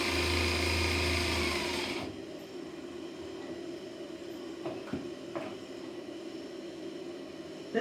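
A sewing machine stitches two layers of fabric held taut in front of and behind the presser foot, giving a steady close whirring hum for about two seconds before it drops to quieter room noise with a few faint clicks.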